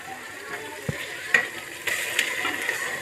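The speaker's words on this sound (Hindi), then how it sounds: "अब जो है ना हम साग इसमें ऐड करने लगे हैं" Saag greens are added to a cooking pot and stirred, giving a soft, steady sizzle with scattered light clicks and scrapes of the spoon, close and low in level with no talking.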